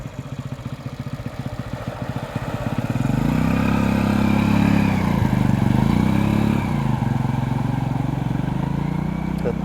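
A motorcycle rides along the waterlogged Thiruthi road, which stays flooded after the rain, with its silencer covered. The engine drone swells from a quieter putter into a loud, sustained close roar that holds to the end.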